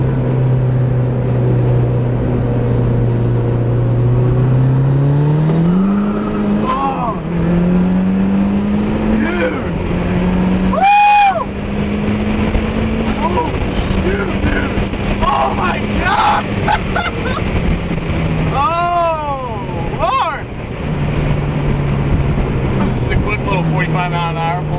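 A boosted 350 WHP Mazda Miata accelerates hard, its engine note climbing steadily and loud from inside the car through a long pull, with brief shift dips, under excited talk from the occupants.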